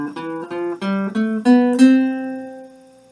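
Several notes in a strict major scale, played one after another in a clear rising run that ends on a longer held note, close and alone.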